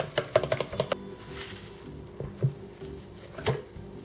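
One egg being beaten in a bowl with cornstarch, tomato paste and oil: a quick run of light rhythmic taps, then a few scattered knocks, faint and close.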